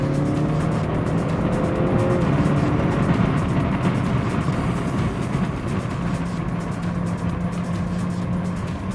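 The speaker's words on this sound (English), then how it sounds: "These seem to be a bit more of the built race cars." Built race cars lapping the Zandvoort Formula 1 circuit on a track day, a steady loud roar of engines and road noise with a passing car and faint tire squeal, continuous throughout.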